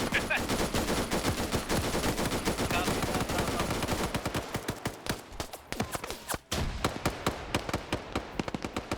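Dense automatic gunfire rattles nonstop in a military video game firefight, with rapid machine-gun bursts and sharp single shots packed tightly at first, then thinning into scattered cracks and pops near the end.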